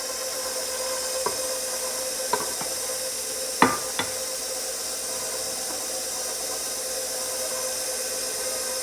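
Electric mixer beating powdered sugar into lemon cream frosting, a steady high-pitched whirring hiss that runs throughout, broken by a few faint clinks of the beaters or a scraper against the bowl, with no talking.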